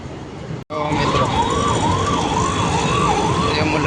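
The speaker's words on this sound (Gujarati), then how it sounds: "એમ્બ્યુલન્સ આવે છે પાછળથી." An ambulance siren comes up from behind in a BRTS bus lane, wailing up and down in steady slow sweeps, loud and close over a constant rumble of road traffic after a brief cut.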